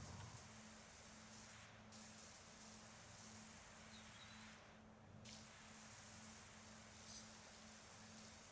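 A pressure washer sprays steadily in Powerwash Simulator, a dense continuous hiss with a low hum underneath and two brief breaks in the spray.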